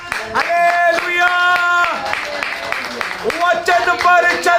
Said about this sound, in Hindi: तालियों के साथ हालेलुया।